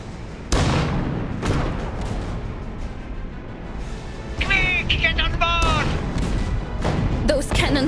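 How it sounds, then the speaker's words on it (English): Cannon blasts in an Iron Harvest cutscene: several heavy booming shots ring out among rumbling battle noise, with voices speaking and shouting over the din. "Those cannons will destroy them."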